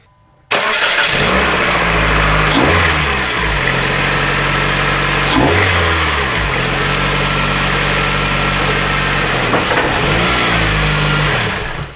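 A 2.4L Jeep Compass engine cranks and catches after a short silence, then runs loud and close, settling into a steady idle with a few brief revs along the way.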